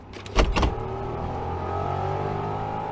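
A racing car engine is pushed to full throttle, with a couple of sharp bursts early on that settle into a steady, sustained engine drone with no voices.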